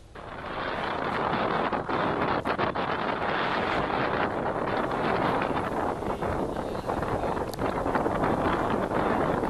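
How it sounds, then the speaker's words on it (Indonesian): Strong, steady wind roars over the Sunda Strait waters near Merak harbour during tropical storm Dahlia, with gusty buffeting against the microphone throughout. "Angin kencang dan gelombang tinggi melanda perairan Merak yang berada di kawasan Selat Sunda"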